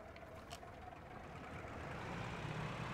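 Engines of a Felixstowe F.2A flying boat in the WWI flight game Rise of Flight hold a steady, low droning hum that rises slightly in loudness, with no speech over it.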